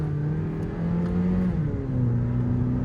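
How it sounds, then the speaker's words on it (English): A Mazda 3 engine drone while driving, with steady low tones that drop and shift in pitch as the car downshifts, continuous and fairly close throughout. "She downshifts perfectly, upshifts and downshifts, and works just fine."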